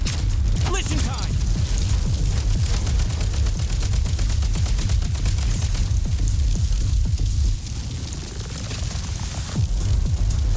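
Video game combat with grenade launcher fire mixed into dense, rapid weapon bursts that rattle on continuously, loud and close, with a brief dip near the end.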